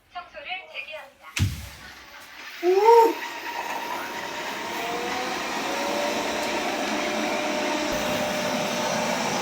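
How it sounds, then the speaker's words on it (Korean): A robot vacuum cleaner runs on the upper loft floor of a home. A sharp clunk and a short tonal prompt come first, then a steady, moderately loud whirring hum carries on alone. "복층에 있는 저 로봇 청소기를 가지고 놀려고 그래요"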